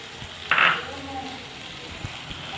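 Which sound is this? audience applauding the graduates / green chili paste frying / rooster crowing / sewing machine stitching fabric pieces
green chili paste frying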